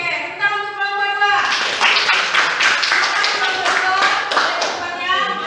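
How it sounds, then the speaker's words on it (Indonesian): A small university class claps for a group that has just finished presenting, a short burst of close, scattered hand claps between stretches of a person speaking. "tepuk tangan untuk kelompok 2"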